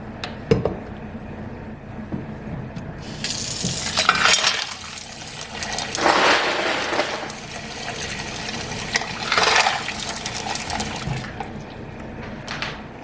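Tap water running into a large bowl to make ice water for rinsing freshly churned butter in a hot-weather kitchen, a steady broadband rush that swells and fades in several bursts, with no talking.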